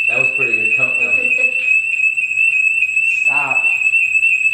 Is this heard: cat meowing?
no